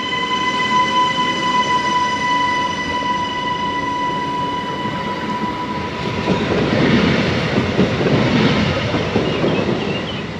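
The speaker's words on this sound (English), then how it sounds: "That is one seriously long train." A long Swiss train rolls past steadily with a sustained mechanical hum, then grows rougher and louder with rumbling wheel noise toward the end; no voices.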